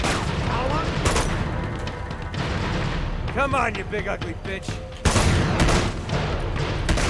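A battle in Uncharted 2 brings rapid bursts of gunfire and heavy explosive booms, loud and dense, with a sharp blast near the end, while someone talks over the chaos.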